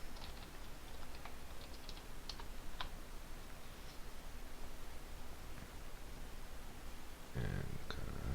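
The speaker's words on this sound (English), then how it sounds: "I'm just gonna type in my name." Someone typing a name on a computer keyboard, with faint scattered key clicks under steady background hiss and a louder burst of handling noise near the end.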